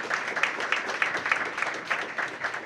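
A room full of people at a workforce plan announcement applauds in a dense, even burst of clapping that carries on through the whole moment.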